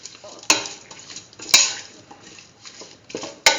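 Tomato pieces being stirred in a metal pan for a pumpkin beef rice dish, with a few sharp, clanking utensil strikes against the pan between softer scraping and shuffling, close and fairly loud, no voices.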